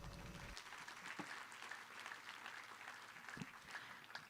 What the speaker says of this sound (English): that deserves a louder round of applause